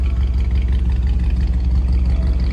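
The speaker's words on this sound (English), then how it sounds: "this is the power plant you want, dual exhaust. It's got a nice little rumble to it" A 1957 Chevrolet Bel Air V8 with dual exhaust idles close by, a deep, steady rumble, low and throaty with a continuous even pulse and no voices.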